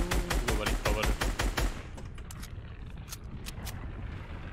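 Rapid gunfire in the video game Fortnite, a burst of about a dozen sharp evenly spaced shots for nearly two seconds, then a few faint scattered distant shots over a low background.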